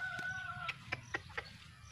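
Chickens cluck in a quick run of short, sharp calls while following someone digging up worm-filled soil during planting, close by against a low, quiet farmyard background.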